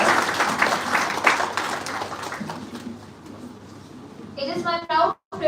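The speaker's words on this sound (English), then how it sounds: "Can we have a huge round of applause for the panelists on the stage" Applause from a biotechnology institute audience for stage panelists rises at once and then thins out over several seconds. Toward the end a voice speaks over a brief, choppy, clipped patch of sound.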